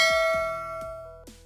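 A bright metallic bell ding sound effect strikes several times in quick succession, each tone ringing on and decaying, loud and close with no talk.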